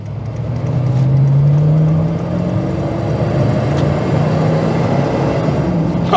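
An old, tired pickup truck engine runs with a low steady drone and rumble, swelling briefly as if revving early on, then settling into a constant hum heard from inside the cab with no talking.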